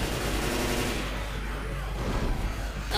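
Rapid assault rifle gunfire from the Left 4 Dead video game, a dense continuous burst of shots filling the whole stretch at steady loudness, with no talk over it.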